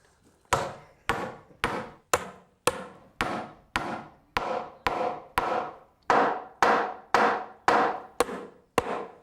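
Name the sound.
lump hammer nailing boards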